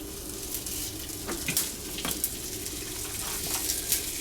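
Yellowfin tuna coated in sesame seeds searing in a preheated pan on a stove, a steady close sizzle with a few sharper spitting crackles and brief stirring or shifting noises.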